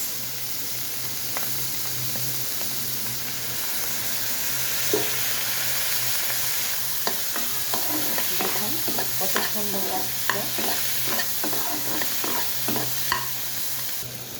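Garlic and mushrooms stir-frying with soy sauce in a pan, a steady sizzling hiss throughout with a run of sharp scraping spatula strokes clustering in the second half, close and fairly loud.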